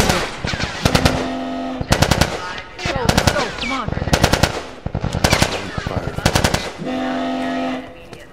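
Automatic and single gunfire in The Last of Us Remastered on PS4 rattles in loud repeated bursts separated by brief gaps, with shouted voices mixed between the volleys.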